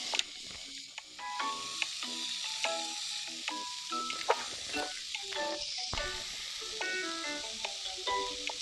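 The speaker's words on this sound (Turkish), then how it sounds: "Domatesler kızarsın diye" Tomatoes sizzle steadily in a hot pan with a soft continuous hiss, faint and close, while tonal electronic beeps and music-like notes sound over it.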